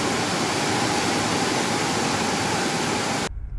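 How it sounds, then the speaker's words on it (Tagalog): Strong floodwater current rushing through a flooded area of San Luis, Antipolo, a loud, dense, continuous roar of water that fills the clip and cuts off abruptly near the end. "Grabe ang lakas ng tubig, ang lakas ng agos ng tubig."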